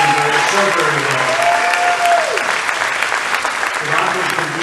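A large crowd at a campaign rally in Aston, Pennsylvania, applauds in a dense, loud, sustained wash of clapping, with a voice briefly audible over it.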